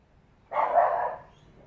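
A single drawn-out bark from a dog, fairly loud and close, rising out of near silence and fading quickly.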